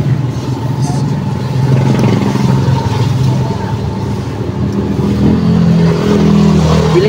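A motorcycle tricycle's engine runs nearby, a loud continuous rumble with slight revving swells, under a person talking.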